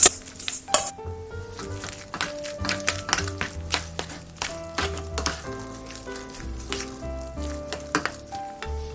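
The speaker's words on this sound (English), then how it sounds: "now I can stir in my pasta now. Finally, I'm gonna add in my lobsters." Pasta and lobster being stirred into a pot for a Ruth's Chris-style lobster mac and cheese, with repeated spoon scrapes, clinks against the pot and a faint sizzle, steady and close.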